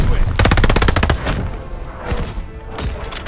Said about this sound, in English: Let's get a strafing run going here. Allied airstrike coming in hot.